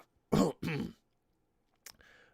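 Two rough coughs in quick succession, close and fairly loud, followed after a pause by a brief throat-clearing rasp.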